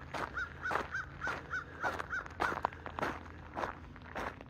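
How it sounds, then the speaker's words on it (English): Crows caw outdoors on a farm on a cool morning, a steady series of about eight evenly spaced calls at moderate distance followed by a few fainter ones. "There's not that many crows right now"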